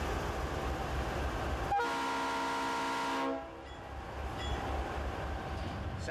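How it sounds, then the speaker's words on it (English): Santa Fe C40-8 wide cab diesel locomotives pass at Gainesville, Texas, with a steady rail rumble and a sustained multi-tone horn blast of about a second and a half, heard from a moderate distance. "Santa Fe locomotives"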